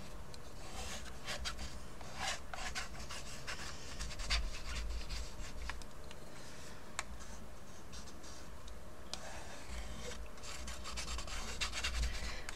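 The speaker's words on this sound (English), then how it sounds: "I'm getting my scraper out and I'm just gonna, again, it's this tactile feeling of being scratchy and scrapey" A scraper drags across a textured art surface, producing close, dry, scratchy rasping strokes in irregular bursts with small clicks scattered between them, with no voices.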